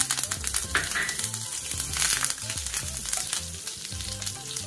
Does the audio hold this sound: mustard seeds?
yes